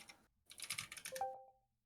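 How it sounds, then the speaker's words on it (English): Someone types on a computer keyboard in a quick, uneven run of clicks, fairly faint, after a short pause. "He's typing something."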